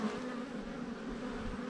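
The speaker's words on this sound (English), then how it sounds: "there's a bee coming out right there" Honeybees buzzing during a hive inspection, a steady, dense hum of many bees close by, continuous throughout with no talk over it.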